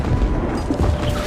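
Ship cannons fire in a pirate battle scene, a couple of deep, rumbling booms heavy in the low end within a loud, dense soundtrack.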